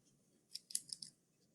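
Scissors snip through yarn while finishing a sock puppet, a quick cluster of four or five small crisp clicks, close but quiet.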